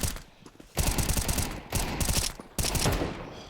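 Rapid automatic gunfire crackles in bursts during a Counter-Strike match on the Inferno map, several dense volleys separated by short pauses, close and loud.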